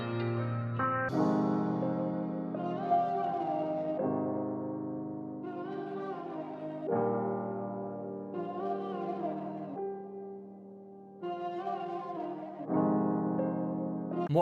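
A slow halftime hip-hop trap beat made in FL Studio rolls along with sustained piano-like chords shifting every couple of seconds, moderately loud, with no talking.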